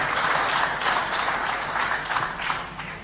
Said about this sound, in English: Let's give Jama another round of applause